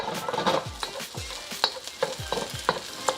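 Egg for chicken fried rice sizzles steadily in a hot pan while a utensil stirs and scrapes it around in quick, irregular strokes, close and clear with no talking.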